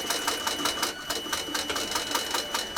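Domestic sewing machine stitching rough handles onto a bag made from a shrunken jumper, a fast regular clatter of needle strokes, close and steady, with no voices.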